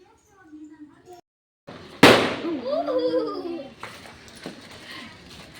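A single loud firecracker bursts close by with a sharp crack, after which a voice carries on talking and other voices join in at a lower level.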